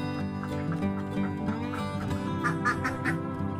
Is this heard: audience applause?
no